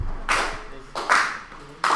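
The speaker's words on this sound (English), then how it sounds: "A slow clap is most definitely in order." Three slow, widely spaced hand claps ring out in a classroom, each a sharp, bright burst with a short tail, fairly close and loud, with no talking between them.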